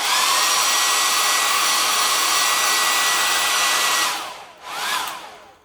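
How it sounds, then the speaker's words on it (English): A hair dryer blows steadily and loudly to dry a pink lemonade craft project, then switches off, briefly restarts with a rising whine, and cuts out again. "I'm going to dry this super quick."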